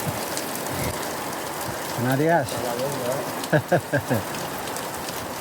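Heavy rain pours down in Madrid, Spain, a steady dense hiss throughout, with a person talking over it and a few short vocal bursts near the end.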